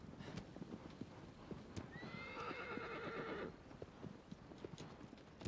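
A horse in the Shadow of the Colossus video game neighs in a loud whinny midway through, with hoofbeats clip-clopping steadily before and after it and no voices.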